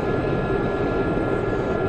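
A Harrier jet flying in the DCS combat flight simulator gives a steady, loud, broadband engine roar that holds constant throughout, with no talking.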